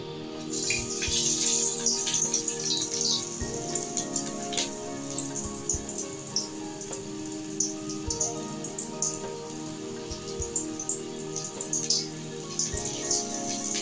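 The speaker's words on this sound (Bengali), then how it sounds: "এরকম করে দিয়ে আস্তে আস্তে এই তেলের মধ্যে দিয়ে দেবো" Stuffed pointed gourd (kakrol) frying in hot oil, a steady dense crackling sizzle with scattered pops running throughout, close and fairly quiet.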